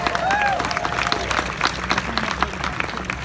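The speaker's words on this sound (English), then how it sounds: "I hear cheering, excitement." An audience claps and cheers during a speech at the Marvin Gaye Post Office event, with dense applause and scattered whoops, and voices audible through it.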